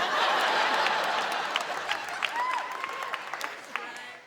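Applause from a stand-up comedy audience, dense and steady at first then thinning, with scattered individual claps and a few chuckles near the end.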